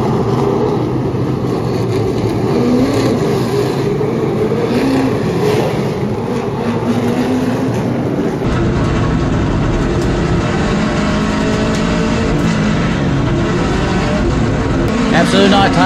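Late model race cars at Hickory Motor Speedway roar steadily together at the green flag, a continuous loud engine drone over the full stretch while a commentator talks over it.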